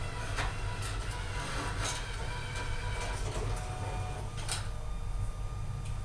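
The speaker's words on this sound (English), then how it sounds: "It's going to make some funny noises. It'll sit there and spin the rollers." An ID card printer runs a cleaning cycle with an alcohol-soaked cleaning card, its rollers spinning in a steady, close, mechanical whir and clatter with a few sharper clicks, no talk.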